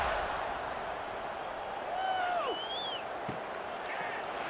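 A video-game stadium crowd roars steadily at a college football game between UAB and Tennessee, a broad, continuous wash of cheering with a few sharp whistles and a brief thud rising above it.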